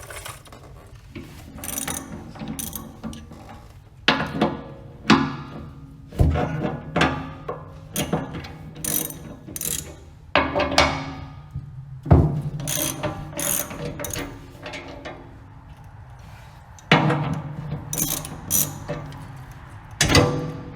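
A ratchet loosens the bolts holding a rubber cutting edge on a snowplow, with close, rapid clicking bursts that start and stop repeatedly and are broken by pauses and the occasional thunk.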